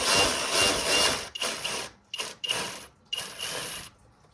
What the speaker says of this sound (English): Just start unbolting the fan shroud while it's draining.